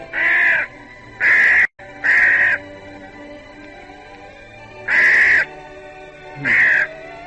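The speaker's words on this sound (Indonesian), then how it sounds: "Sekarang dia mengambil perwujudan seekor burung." Radio drama sound effect of a bird cawing: five loud, harsh, crow-like caws, each about half a second long, spaced unevenly and standing alone against a quiet background.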